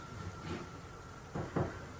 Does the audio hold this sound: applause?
no